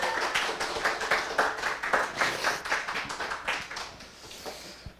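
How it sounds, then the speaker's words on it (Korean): A church congregation claps in welcome for a pastor at a Sunday afternoon teachers' dedication service, dense broadband clapping that swells and fades over five seconds, with no voices over it. "큰 박수 환영"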